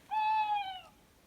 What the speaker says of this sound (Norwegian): Masse uglelyder.